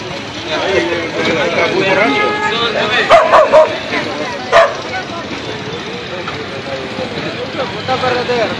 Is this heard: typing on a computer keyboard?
no